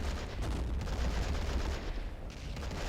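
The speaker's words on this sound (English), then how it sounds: "Shoot the mortar." Mortar fire and other gunfire in the Men of War video game, a dense, continuous rumble of artillery and battle noise at steady loudness.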